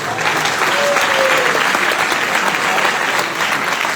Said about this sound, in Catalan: heu de donar un fort aplaudiment als pares